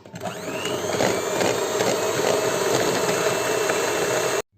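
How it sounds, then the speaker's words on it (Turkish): Electric mixer whisking cupcake batter with milk and oil, a steady whirring motor drone running for several seconds before cutting off abruptly. "Ve şöyle tekrar bir çırpacağım"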